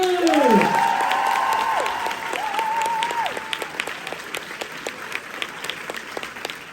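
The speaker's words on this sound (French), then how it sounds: "qu'on peut applaudir bien fort s'il vous plaît" Applause from a comedy sketch audience, loud at first with a tonal sweep over it, then fading into scattered claps.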